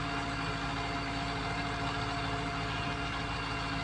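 A tractor engine runs steadily at a low, even idle, a continuous droning rumble with no talk over it.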